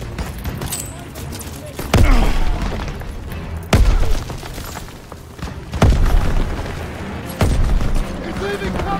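Four heavy grenade explosions boom at roughly two-second intervals over continuous gunfire and shouted voices in a World War II battle in the video game Call of Duty WWII.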